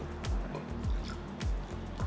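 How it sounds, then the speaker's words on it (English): Soft, quiet drips and squishy plops of water fall into a thick chili powder marinade for fish at a slow, regular pace, with a muffled background hum. "So I'm going to add a little more water."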